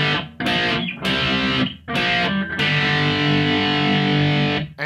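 Distorted electric guitar riff played staccato, with short, disconnected bursts of sliding double stops separated by brief silences, loud and up close.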